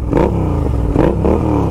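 A Royal Enfield GT 650 motorcycle with a TEC 2x1 exhaust and Powertronics ECU revs close by, giving short, throaty blips in quick succession over a rumbling idle.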